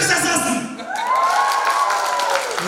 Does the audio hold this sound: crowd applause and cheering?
yes